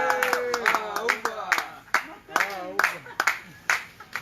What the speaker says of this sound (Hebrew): אני מבקש לעודד פה את אהובה, לתת לה כפיים, חברים